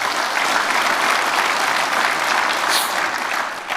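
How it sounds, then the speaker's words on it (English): Steady, full applause fills the hall at an annual conference awards presentation, many hands clapping together at a constant loud level for several seconds. "We give those guys a round of applause for the top 3"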